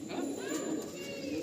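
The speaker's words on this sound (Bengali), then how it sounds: "আপনারা আসবেন, লফটে প্রচুর পায়রা আছে।" Pigeons in a loft give a brief, low, soft cooing, close by, over a constant background hum.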